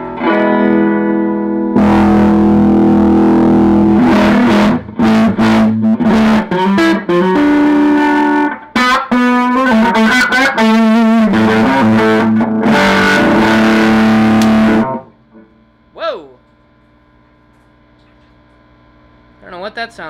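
Electric guitar played through a newly built Dumble-style amplifier, strummed chords and single notes ringing loud and sustained with slight grit and hum, then cutting off to a few quieter plucked notes near the end.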